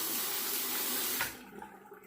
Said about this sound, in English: I'll drain my water and I'm going to wet my razor.